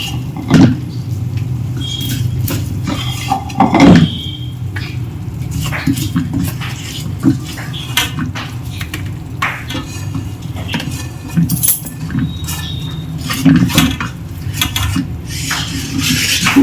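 Mixture for Janmashtami panchmeva turned out onto a ghee-greased plate, with clinks and knocks of a metal spoon and plate against steel dishes over a low steady kitchen hum, close and intermittent, no voices.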